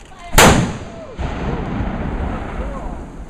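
A cannon fires during an artillery demonstration at Yorktown, one loud, sharp blast up close followed by a long rolling echo and crowd noise outdoors.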